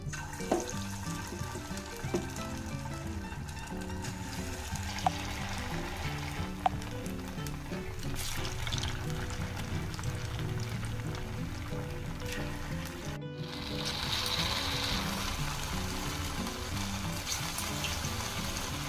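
Leftover-rice fritter batter dropped into hot oil and deep-frying, a steady dense sizzle running throughout with brief splutters and a short break near the end before the bubbling resumes.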